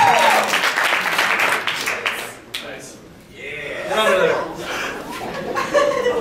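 An audience at a student comedy show applauds, with a dense wash of clapping mixed with chuckles and laughter, and voices talking over it as the clapping thins and then swells again.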